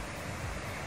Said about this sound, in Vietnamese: Mọi người có nghe thấy tiếng thác chảy không?